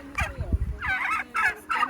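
Turkeys gobble in a poultry enclosure with indoor and outdoor roaming space, a low thumping scuffle giving way to three loud, close, warbling gobble bursts in quick succession.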